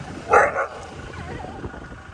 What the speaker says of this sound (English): he is barking at that cow